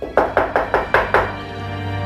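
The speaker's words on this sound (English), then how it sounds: "And as someone knocked on the front door." Six firm knocks on a front door land in an even rhythm, close and loud, then fade into quiet room tone.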